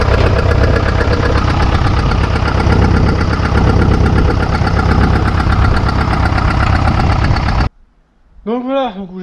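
A Massey Ferguson 835 DS tractor with loader runs close by at a loud, steady, knocking diesel idle for several seconds before shutting off abruptly, followed by brief speech.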